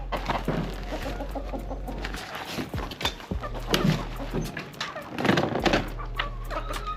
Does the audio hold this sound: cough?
no